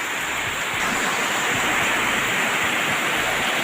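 Floodwater after heavy rain runs along a road beside flooded houses, making a steady, dense rushing wash that sounds close and continuous throughout, with no voices over it.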